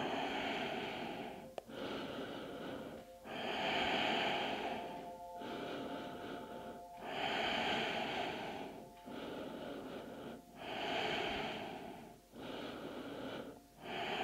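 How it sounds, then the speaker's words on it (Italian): Long, deep breaths taken while holding a yoga pose, with slow, steady inhale and exhale cycles every couple of seconds, close and clear with no talking. "stai qui tre respiri lunghi e profondi"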